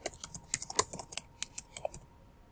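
Fingers type on a computer keyboard, a quick run of about fifteen light, close key clicks in an uneven rhythm, with no voice over them.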